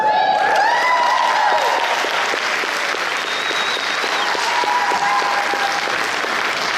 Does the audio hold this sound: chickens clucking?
no